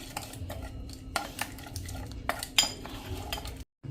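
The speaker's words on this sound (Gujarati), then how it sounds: "હવે આ પેસ્ટને આપણે આ રીતે મિક્સ કરી લેશું." A spoon stirs and mixes a spice paste with fenugreek masala for an okra curry in a small metal bowl, giving intermittent clinks and scrapes at close range with no talking.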